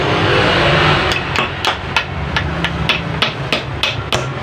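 Rapid metallic hammer blows ring out on a motorcycle monoshock part in a repair shop, roughly ten close taps in a quick even rhythm after a brief noisy start.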